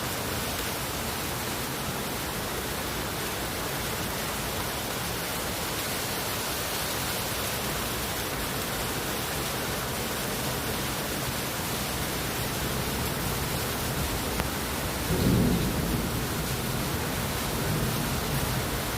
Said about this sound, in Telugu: ఆకాశంలో అయితే మస్తు మెరుపులు మెరుస్తున్నాయి, ఉరుములు ఉరుముతున్నది.